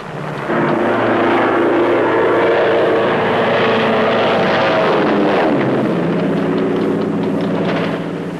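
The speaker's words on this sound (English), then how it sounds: "They shared the narrow airspace with fighter bombers, trying to blast the enemy off the ridge lines." Propeller aircraft passing overhead during the 1967 war in Laos, a loud sustained engine drone that swells and holds, then slowly shifts pitch as it moves off.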